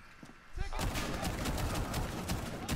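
An auto shotgun fires in Rainbow Six Siege as a sudden burst of rapid, loud, closely spaced blasts that runs without pause to the end after a brief quieter lead-in.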